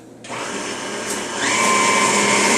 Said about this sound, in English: Okay, now I'm going to blend that.